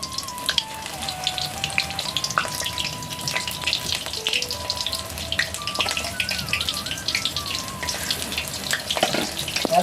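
Pumpkin flower fritters (pakora) fry in hot oil with a continuous crackling sizzle, steady and moderately close, while a faint tonal whine drifts in the background.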